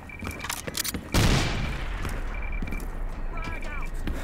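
A frag grenade blast goes off in a military shooter game, a sudden loud boom with a long rumbling tail, preceded by scattered clicks and game effects while players shout over it.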